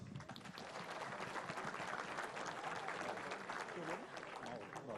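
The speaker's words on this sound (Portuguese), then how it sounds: "Cadê os aplausos?" Audience at a Sao Paulo state congress talk claps in a dense, steady wash that lasts the full five seconds, with voices mixed into the crowd noise.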